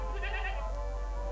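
A goat lets out a single drawn-out bleat, close and clear, wavering through the middle before trailing off over a low steady background hum.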